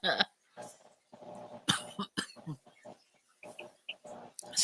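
A burst of harsh coughing up close, several short hacking coughs in a row with pauses between them.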